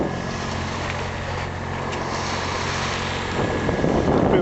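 A sailboat motor sailing in light wind on a passage to the Isle of Man, its engine a constant low drone under steady wind and water rush, with no one talking.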